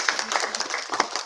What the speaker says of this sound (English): Clap. For her, just clap.